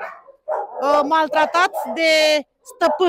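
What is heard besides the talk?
puppy barking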